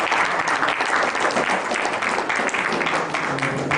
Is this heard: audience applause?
yes